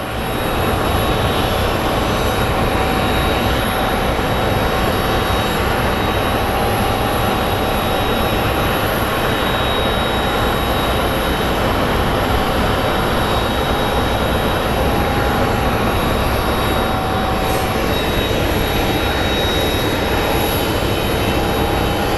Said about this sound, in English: American 1569 coming in from Boston is next